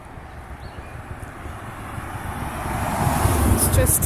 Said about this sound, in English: It's just a loud car.